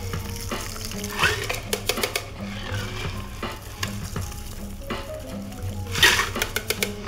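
A pear martini strains out of a cocktail shaker through a Hawthorne strainer and a fine tea strainer, a steady trickling pour with ice rattling and clinking against metal over a low hum, several sharper clinks standing out near the end.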